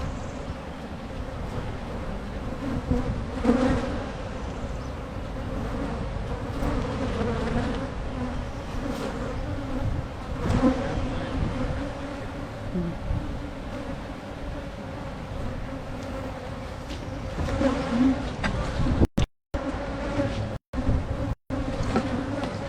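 A dense swarm of honey bees drones in a steady, loud buzz outdoors close by, unbroken for over twenty seconds with a few brief dropouts near the end.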